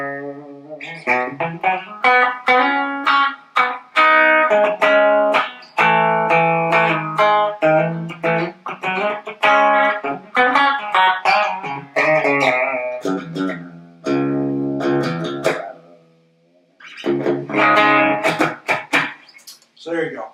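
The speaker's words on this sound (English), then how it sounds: "Here's a spring reverb for you." An electric guitar played through a 50-watt EVH 5150 III EL34 amp with spring reverb: loud chords and single-note phrases with ringing reverb tails, broken by short pauses.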